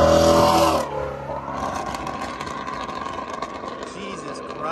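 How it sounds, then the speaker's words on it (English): A Shelby GT350 Mustang with a catless X-pipe exhaust and no resonators, a loud rev dropping into a steady, raspy engine drone close by, partly under a person talking. "I am in love with the way that this exhaust sounds."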